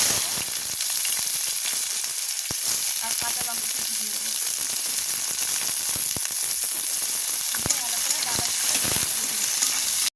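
Chopped onion hits hot oil tempered with whole dried red chillies, bay leaves, green cardamom and garam masala for a tarka, giving a loud, steady, hissing sizzle broken by occasional sharp clicks of stirring.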